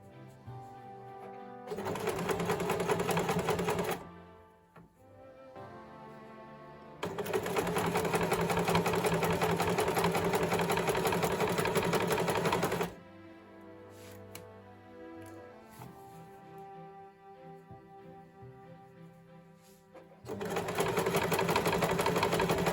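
A sewing machine stitches bias binding around the armhole of a sleeveless top, running in three long loud bursts with quieter pauses of handling and repositioning between them.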